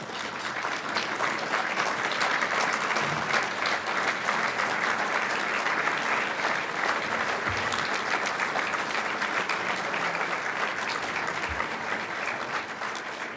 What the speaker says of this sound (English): that spontaneous applause probably tells you something all by itself